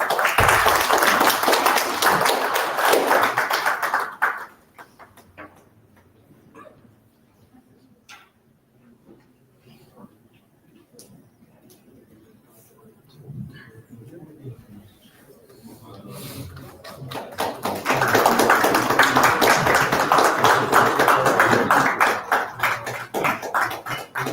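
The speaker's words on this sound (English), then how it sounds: "Let's give a huge round of applause, everyone." An audience at an international workshop claps in a big round of applause, loud and dense at first, fading into a quiet stretch with faint talk, then swelling again into a second strong burst.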